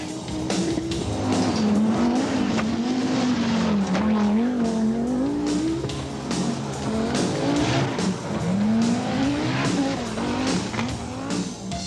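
An Audi Sport Quattro rally car driven by Walter Rohrl, its engine loud and close as it revs through rising and falling pitches, with tire squeal and skidding throughout and no talk over it.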